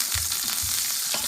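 Ginger sizzling and frying in hot olive oil in a pan for a vegetable chow mein, a steady close crackle with a few soft stirring thumps, no talking.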